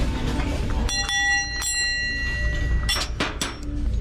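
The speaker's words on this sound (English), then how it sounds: "Nice little doorbell." A small decorative school bell, the kind hung outside a house as a doorbell, rings in a thrift store: several bright metallic strikes with ringing tones that decay between hits, heard close over low store hum.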